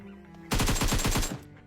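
A rapid burst of about nine gunshots in a video game shootout, loud and close, fired in quick succession over roughly a second with a brief quiet before and after.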